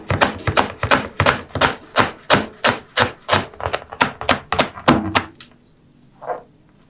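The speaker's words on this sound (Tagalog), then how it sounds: "I-rolyo lang muna natin to. Tapos, hihiwain ko sa maliliit na piraso." Kangkong (water spinach), rolled into a bundle, is chopped into small pieces with a knife on a board: about sixteen quick, evenly spaced thuds, close and crisp, stopping near the end with one softer knock afterward.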